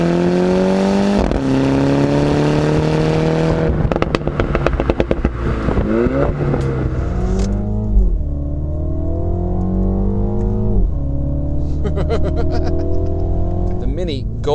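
A 2017 Mini Cooper S John Cooper Works on snow tires is driven hard, its engine climbing through the revs with sharp gear changes and exhaust crackles, loud and close throughout.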